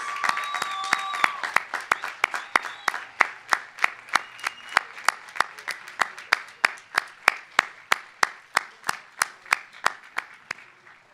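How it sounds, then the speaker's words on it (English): An audience at an undergraduate commencement breaks into applause that settles into rhythmic, unified clapping, sharp regular claps ringing out one after another, with a brief whistle or cheer near the start. "say thank you with another spirited round of applause for your support"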